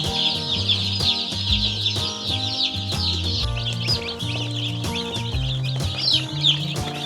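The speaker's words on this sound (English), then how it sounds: "So many chickies." Many young hatchery chicks cheep and chirp together in a continuous, busy chorus close by, with no talk over the sound.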